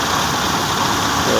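A tractor engine runs a 2009-model Batala thresher, giving a steady, loud, droning hum at an even pitch with no clear breaks.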